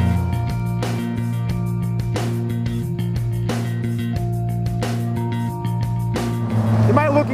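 A 2016 Polaris Slingshot's engine hums steadily while the gears are shifted down and back up, with brief dips in the drone at each change and a rising rev near the end, heard up close over road noise.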